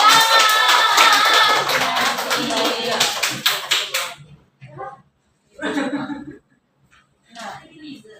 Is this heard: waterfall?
no